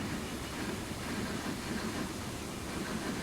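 A long freight train rumbles steadily along the track in Transport Fever 2, with a dense, unbroken rolling roar close by and no voices.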